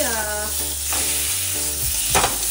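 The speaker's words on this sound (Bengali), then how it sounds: "আলুগুলোকে ভাজা ভাজা করে নিয়েছি।" Potatoes fry in hot oil in a pan while being stirred, giving a steady close sizzle with scraping stir strokes.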